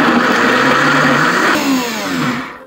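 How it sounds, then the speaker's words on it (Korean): A kitchen blender grinding ingredients for Korean pan-fried patties, a loud steady motor whir that runs throughout and dips and shifts pitch near the end as the load changes. "자 이제 이거를 믹서에다가 넣고 갈아줄 겁니다."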